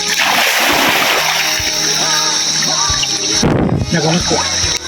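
Water splashing loudly and close as someone bathes in a cold, clear river inside a cave, irregular slaps and churning with a voice speaking between bursts.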